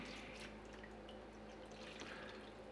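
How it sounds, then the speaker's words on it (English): Water pours steadily into a yellow fruit fly trap holding a stinky red powder bait, a continuous soft trickling and dripping fill lasting a few seconds with no talk over it. "We'll add some water."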